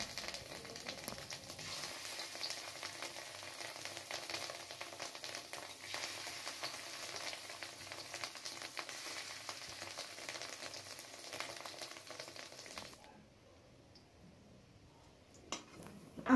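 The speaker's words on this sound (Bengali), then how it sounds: "এইভাবে বাদ বাকি ডিমগুলোকে ভেজে নেব।" Fish roe frying in oil for a Bengali fish-egg curry gives a soft, continuous sizzle for about thirteen seconds. The sizzle then drops to near silence, broken by one brief clatter near the end.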